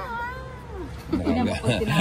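A pet cat meows in drawn-out, wailing cries close by, with a person talking over and between the calls.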